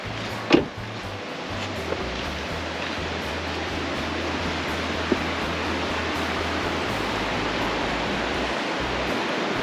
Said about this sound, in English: the river looks a little high